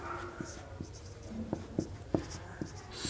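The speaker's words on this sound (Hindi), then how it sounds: "तो इसकी डेफिनेशन पहले लिखते हैं।" Chalk or marker writing on a board during a physics lesson, with faint scratches and taps in an irregular rhythm and no talk.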